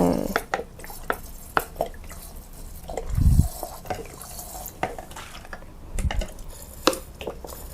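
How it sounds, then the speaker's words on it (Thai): Tiparos fish sauce is poured into small jars of pickled limes, giving soft liquid trickles, drips and light clinks of glass and utensils, close and fairly quiet, with no talk. "ใส่น้ำปลาลงไป"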